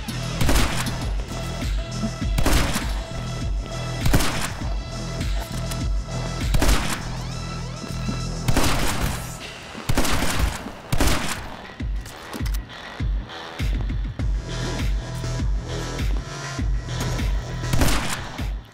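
Gunfire in the video game My Friend Pedro, with dense bursts of rapid shots and heavy thuds that keep coming in clusters, loud and close, with no talking.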